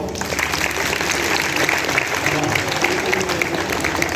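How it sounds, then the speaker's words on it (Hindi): An audience at a national poetry gathering for India's 75th Independence celebration claps steadily, a dense, even round of applause that holds at full strength throughout. "कविता समझ आ रही है तो तालियां बजाओ"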